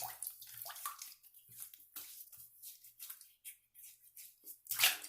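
Running water splashing and trickling as a face and razor are rinsed after shaving with a Gillette Guard, soft, intermittent wet splashes and drips, close and fairly quiet.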